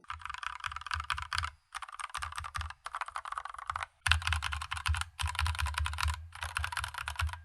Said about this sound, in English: Now listen to that compared to this Akko 3068 with Gateron pink switches that are